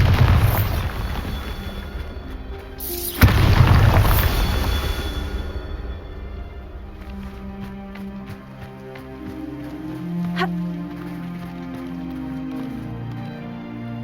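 A Bombarda spell goes off in Hogwarts Legacy as a sudden loud blast with a deep rumbling tail that fades over a few seconds, followed by quieter game ambience and a brief sharp sparkle later on.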